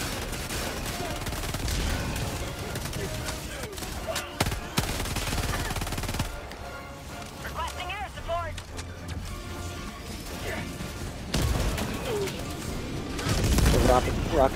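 Sustained automatic gunfire in the shooter game Helldivers 2, loud and dense with bursts and explosions throughout, overlaid with game effects and occasional voices.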